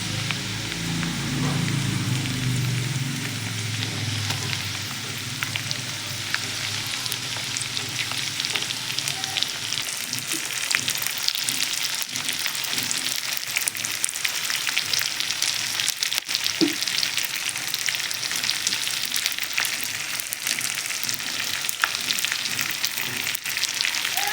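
Stuffed okra (bhindi) packed with masala frying in oil in a pan, giving a steady, close sizzle throughout with a few light stirring clicks and no talk.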